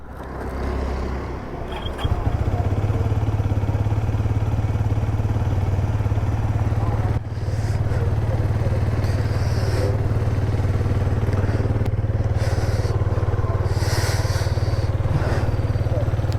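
A Hero Xtreme 250R motorcycle engine, just back from service, starts up nearby and settles into a steady, loud idle drone. It dips briefly partway through, then keeps running evenly.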